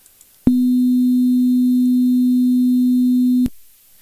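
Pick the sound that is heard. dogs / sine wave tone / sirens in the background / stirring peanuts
sine wave tone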